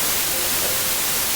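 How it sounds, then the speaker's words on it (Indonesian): Software-generated white noise plays as a loud, steady, unbroken hiss spread evenly across the whole range, with no other sound. "Misalnya ada noise, ini white noise ya."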